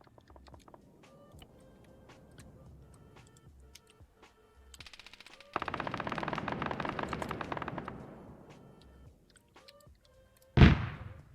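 Burst of automatic cannon fire from a Cheetah anti-aircraft vehicle in Arma 3, a dense rapid rattle lasting a few seconds after quieter ambient clatter, then a short sharp loud blast near the end.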